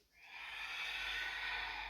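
Breathing during a home exercise routine: a single drawn-out, breathy airflow swells in and holds for under two seconds, close and soft, with no talking.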